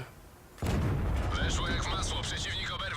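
A sudden heavy tank cannon blast in the video game World of Tanks, from an E-25, erupts after a quiet moment, followed by a sustained rumbling roar with synthetic game-like tones ringing over it.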